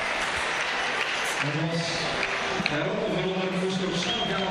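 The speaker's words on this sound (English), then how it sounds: "she is getting a huge round of applause" A large crowd at a climbing World Cup lead final in Puurs applauds steadily, with voices and cheering mixed into the dense clapping throughout.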